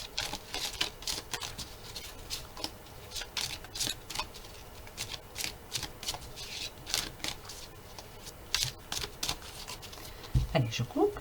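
A deck of oracle cards is shuffled by hand and then cut, giving soft, rapid papery riffles and rubbing patters in irregular bursts, close and fairly quiet.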